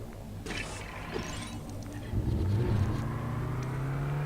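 Vehicle driven in the video game Lego City Undercover, an engine revving up and holding a steady droning tone after a bump, with small clunks earlier, close and fairly loud.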